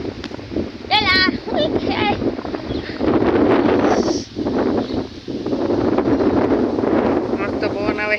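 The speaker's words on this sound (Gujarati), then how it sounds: "મસ્ત પવન આવે છે કા બહુ હારો પવન આવે" Wind blows steadily outdoors beside an onion field, a broad continuous rush buffeting the microphone throughout, with voices talking over it.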